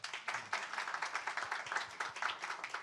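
A room of attendees at an education policy forum claps for two provincial education superintendents, a soft but distinct rhythm of individual hand claps continuing steadily throughout.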